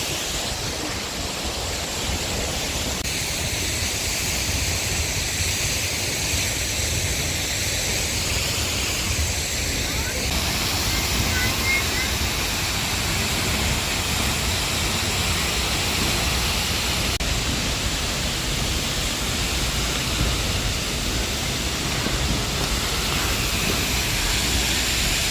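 Seljalandsfoss waterfall in Iceland pours with a dense, constant roar of crashing water, loud and close, unbroken for the whole stretch with no voices over it.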